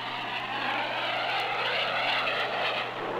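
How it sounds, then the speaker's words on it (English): A Panther single-seat Navy jet aircraft in flight, heard as a steady, loud engine roar with a broad whooshing tone and no talk over it. "This time in the lightning-fast single-seat jet Panther."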